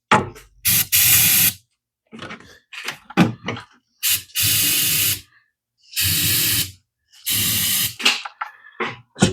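Carburetor cleaner sprayed from an aerosol can onto a carburetor part with stuck O-rings, in several loud hissing bursts of about half a second to a second each, separated by short clicks, handling noises and silence.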